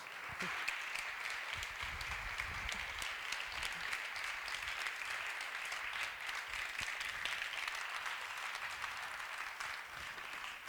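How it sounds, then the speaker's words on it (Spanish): An audience at a storytelling festival welcomes a storyteller with steady, continuous applause, a dense wash of many hands held at a moderate, fairly distant level for about ten seconds. "la recibimos con un aplauso"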